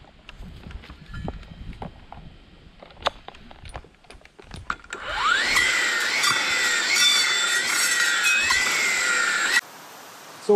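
A Husqvarna 535 iFR battery clearing saw whirs up at the midpoint and runs with a loud, high electric whine for several seconds, then cuts off abruptly, after quieter handling clicks and rustles.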